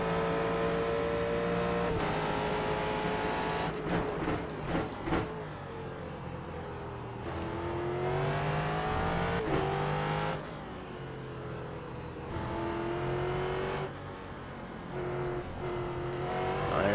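A Ford GT3 race car in a racing game at Twin Ring East howls steadily up through the revs, dropping pitch at each clean gear shift, several shifts in a row, loud and close with brief tire noise.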